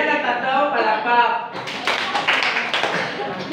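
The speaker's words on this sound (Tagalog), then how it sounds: "Bigyan ng tatlong palakpak." Students in a classroom give a short round of claps after a brief spoken moment, a few sharp, close hand claps following talk.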